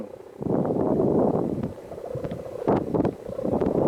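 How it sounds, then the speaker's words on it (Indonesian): Strong wind roars across an open field where giant kites are flown, steady loud gusts buffeting the microphone with a few sharper rushes and no voices. "Apa yang terjadi punya Pak Kus, rupanya terlalu besar angin yang menerpanya."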